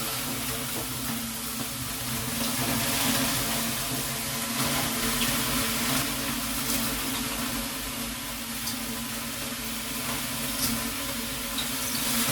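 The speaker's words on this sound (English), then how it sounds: "You pour the water to that thing and it gets steamy in here real fast." Water poured onto a barrel sauna heater sends up a continuous loud hiss and sizzle of steam, a dense rushing sound that holds steady from start to finish with no voices.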